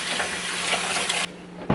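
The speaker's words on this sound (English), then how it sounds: "So I'm just going to put some soap in there and just fill it up with some more water and just let it soak" Tap water runs into a kitchen sink, filling it with soapy water for soaking, a steady close hiss and splash that cuts off abruptly near the end with a brief splash after.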